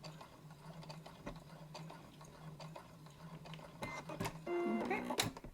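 Domestic sewing machine running a lock stitch while making a festive drawstring gift bag, stitching with grey thread on white fabric. It purrs in a steady rhythmic hum near the microphone, then ends in a few sharper mechanical clicks and clunks.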